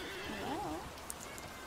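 A horse whinnies in the Alicia Online game, a short wavering neigh that rises and falls, followed by faint hoof clops and light clicks in the background.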